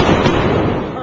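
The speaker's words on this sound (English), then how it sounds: "supersonic aircraft make a sonic boom, which we as human beings do hear as a double bang" A sonic boom from a supersonic aircraft: a loud, sudden broadband blast that fills about a second with a dense roar and fades only slightly toward the end, with no separate second bang clearly apart.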